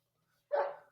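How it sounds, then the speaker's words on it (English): One short dog bark plays as a sound effect, a single quick woof that fades out, alone and fairly faint against silence. "I got a dog too."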